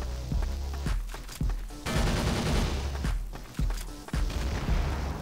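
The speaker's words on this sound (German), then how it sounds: "Lauf durch und schieß eine RPG durch die Mitte." In the online shooter Warrock, rapid bursts of gunfire and heavy explosive booms from an RPG shot pile up in quick succession, loud and dense.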